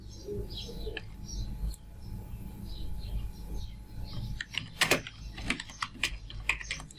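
Quiet clicking of keys as a search is typed on a computer keyboard, a steady patter of light taps that grows into a faster, denser burst near the end, heard close up with no talking.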